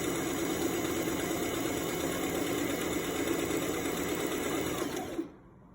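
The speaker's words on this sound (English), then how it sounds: "place the piece there, start sewing" Close, steady mechanical whirr of a sewing machine stitching a welt seam in straight stitch, running continuously and then stopping abruptly near the end.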